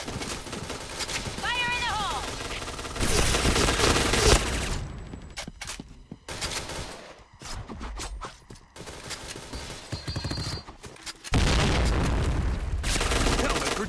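AS Val suppressed rifle fire in an online first-person shooter, heard as bursts of loud, sharp reports and booms over a busy, dense game mix, with talk running through the mix.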